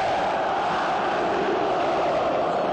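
Football supporters roar in a stadium during a Copa do Brasil final, with Atlético needing a three-goal win over Flamengo. The dense crowd noise is steady and continuous throughout, with no separate voices standing out.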